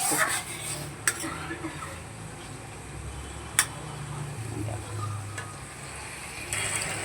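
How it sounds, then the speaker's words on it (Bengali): Food sizzles gently in oil in a home kitchen pan, a soft continuous crackle broken by a few sharp utensil clicks against the metal, with quiet talk faintly in the background. "বাড়িয়ে দিয়ে এবার এটাকে সুন্দর করে ভেজে নেব।"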